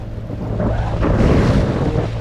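Sea waves roll where a river meets the sea, heard from a cruise boat as a steady close wash of water mixed with wind buffeting and a low engine hum, with no talking.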